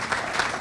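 Short burst of crowd applause at a community beautification awards ceremony, a fraction of a second of steady clapping.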